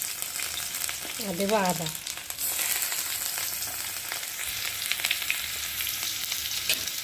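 Dried red chillies, bay leaves, crushed garlic and ginger crackle in hot oil in a kadai, a steady loud sizzle with stirring scrapes, while someone speaks briefly over it.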